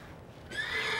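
A horse being groomed lets out a loud whinny that bursts in halfway through after a quiet, muffled start and carries to the end, close by with no voices.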